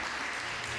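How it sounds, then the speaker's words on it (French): Audience applause for a contestant at a competition, a steady dense wash of clapping throughout the short moment with no voices. "On applaudit Tatiana de Vendresi"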